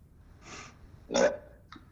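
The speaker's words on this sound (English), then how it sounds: "Burp." Three short throat sounds close to the microphone: a soft puff, then one louder abrupt burp, then a tiny click-like catch, all quiet and alone.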